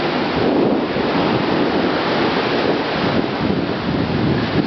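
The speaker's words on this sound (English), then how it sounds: "when the surf comes in, it just hits off that wall and goes straight into the parsonage house" Ocean surf hitting a seawall near a coastal house: a broad, steady roar of crashing water and wind, loud and continuous with slight swells in intensity.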